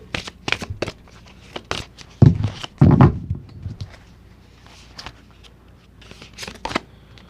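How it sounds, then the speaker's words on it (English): Tarot cards being shuffled by hand in short riffling bursts, a few louder flurries near the middle, with quiet pauses between. "let me go ahead and finish shuffling and pull a card for you"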